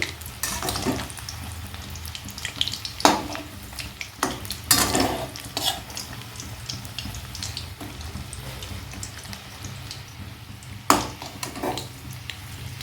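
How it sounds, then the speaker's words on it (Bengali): Chicken pakoras fry in oil in a pan over a medium flame, giving a steady close sizzle with a few sharper bursts and clinks from turning the pieces; no one speaks. "সেই জন্য আমি মিডিয়াম ফ্লেমেই ভাজছি। সব পকোড়াগুলো আমি উল্টে দিলাম।"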